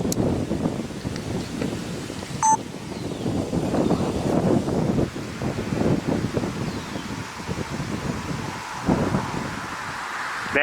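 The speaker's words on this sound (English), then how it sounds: "Now, of course, the wind seems to be constant." Steady outdoor wind buffeting the microphone, a continuous low rushing roar with rustling gusts throughout, loud and close with no break.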